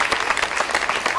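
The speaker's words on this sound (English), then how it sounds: "That deserves a round of applause." An audience claps in steady, dense applause at a band showcase, close and fairly loud, without any voices standing out.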